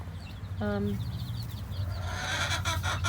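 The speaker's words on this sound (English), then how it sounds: "there's quite a bit of commotion going on inside the coop right now" Hens cluck and fuss inside a chicken coop while one prepares to lay an egg, with a short rising squawk early and busy overlapping clucking that swells toward the end.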